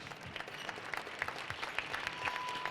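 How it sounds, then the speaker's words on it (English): Faint, distant round of applause from an audience at a celebration event, a continuous patter of many hands clapping at low volume, with a thin steady tone near the end. "a big round of applause for Sean"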